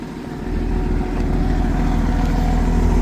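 A Mercedes SL 500 engine runs close by with a steady, loud, low rumble that swells slightly after the first half second and then holds even, with no voices.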